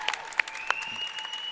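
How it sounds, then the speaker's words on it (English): Spectators of the Indian Valley crowd at a girls' basketball district championship give a standing ovation, with scattered sharp claps and sustained applause under a continuous tone in the gym. "a standing ovation coming from the Indian Valley crowd right behind us"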